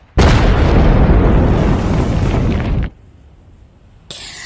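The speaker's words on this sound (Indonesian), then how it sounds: "Dan rudal pun meledak." A missile explosion in a film scene: one huge roaring blast that starts abruptly, rumbles steadily for almost three seconds and then cuts out, followed by quiet and a brief sharp burst near the end.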